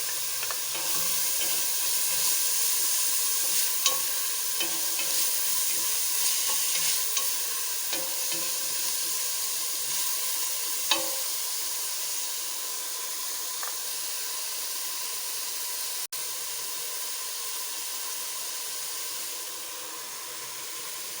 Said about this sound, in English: I'll add the tomatoes now. I'll fry it till it is nice and soft.